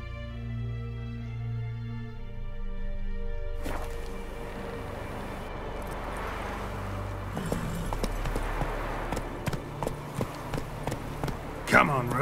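Roach, a horse in the video game The Witcher 3, galloping with quick, even hoofbeats over steady music. Someone talks over the game sound.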